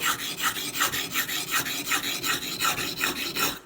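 A knife blade rubbed back and forth on a sharpening stone, giving a steady rhythmic rasping stroke roughly every quarter second, close and loud with no talk.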